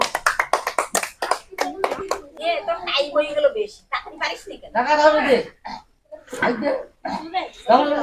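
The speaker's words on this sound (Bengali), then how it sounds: "হাততালি দাও, হাততালি দাও, সবাই হাততালি দাও" Children clapping their hands at a water-balloon popping game, a brief burst of quick claps near the start followed by loud talking and chuckling voices.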